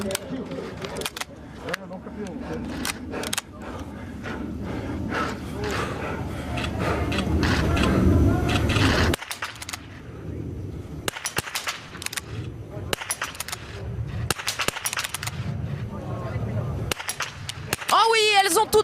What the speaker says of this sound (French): Il est là, le dernier tir.